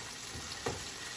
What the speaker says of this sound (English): We got minced garlic here, and I'm just going to stir that into the olive oil.